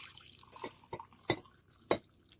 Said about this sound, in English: Okay, we're going to pour some in here.